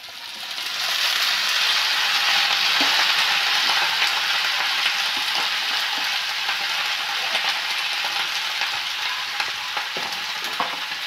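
Chopped onion stalks sizzle loudly in a hot pan for aloo peyajkoli posto, a steady frying hiss broken by scraping and clinking as they are stirred.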